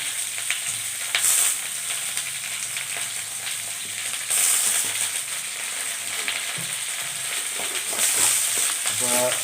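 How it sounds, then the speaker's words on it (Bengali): Broad beans and potatoes fry with turmeric in a pan over lowered heat, giving a continuous soft sizzle with occasional light stirring clinks and scrapes. "শিম আলু দেওয়া হয়ে গেছে, জালটা একটু আঁচটা কমিয়ে একটু ভাজতে হবে।"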